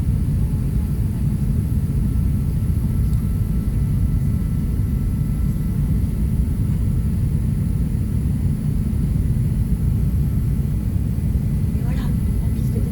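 A steady, loud low rumble fills the cabin of an Emirates airliner on the runway at Charles de Gaulle airport, with engine drone continuous throughout and faint cabin sounds above it.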